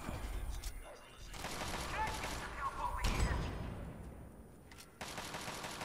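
Gunfire aimed at a cannon in Fallout 3, a sustained rattling burst of shots with metallic clanks, fairly close and continuous across the few seconds.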